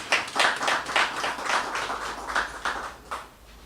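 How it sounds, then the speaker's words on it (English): Light applause from a small audience at a local arts exhibition opening in Montserrat, honouring a credit union sponsor; a brief, moderate patter of hands that fades out after a few seconds. "I'd like to please give them a round of applause for helping us out."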